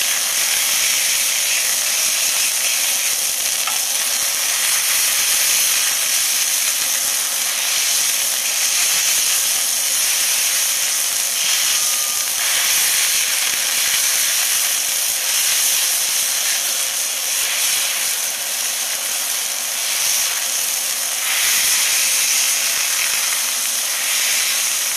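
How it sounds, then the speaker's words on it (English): Smash burgers sizzling loudly on a hot griddle, a bright, dense, continuous hiss that holds steady for a long stretch, with no talking over it. "it's time to smash down our smash burgers"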